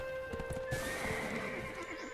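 A horse in the online game Black Desert Online whinnies loudly and close, with a run of clip-clop hoofbeats on hard ground before and beneath the neigh; no speech.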